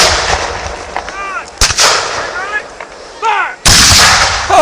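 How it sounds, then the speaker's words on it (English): Heavy cannon blasts boom out, loud and close, with a couple of sharp reports and a final huge roar amid outdoor crowd noise and whistles at a rally. "Real cannon fire is unbelievably loud and it shakes your whole spine."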